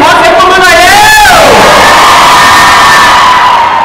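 A large crowd of fans at a fan meet event cheers and screams loudly and close by, with a surging burst of high-pitched shouting that settles into a sustained roar.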